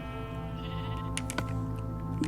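A Minecraft sheep bleats in a long, wavering call, fairly quiet, followed by a few soft clicks and thumps.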